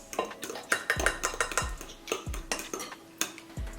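A fork beats eggs in a bowl for banana bread batter, producing fast, light metallic clinks and scrapes in an uneven rhythm, close and moderately loud.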